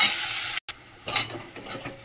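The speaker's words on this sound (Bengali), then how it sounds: "পেঁয়াজটা লাল করে ভেজে নিই" Chopped onions sizzle in hot oil alongside a bay leaf, a loud close crackle cut by a brief silence, then returning with stirring scrapes.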